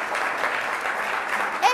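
Studio audience applauding on an Italian quiz show as team captains take their places, a dense, even wash of clapping throughout with a brief voice near the end.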